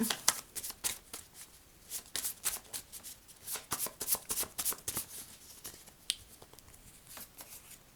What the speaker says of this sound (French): Je vais tirer une carte au niveau de la nostalgie.